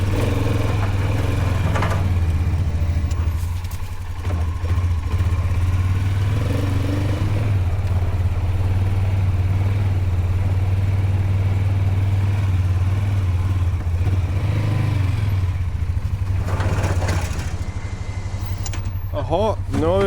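An ATV fitted with a snow plough drives forward and backward, its mid-pitched engine running steadily and revving close by with some clatter, while people talk over it.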